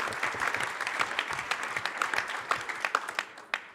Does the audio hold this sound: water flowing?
no